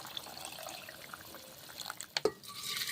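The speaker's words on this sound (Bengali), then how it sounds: "মশলা ধোয়া জল দিলাম" Spice-rinsing water is poured into a pot of whole moong dal, heard as a soft close splash and trickle with a few sharper drips near the end.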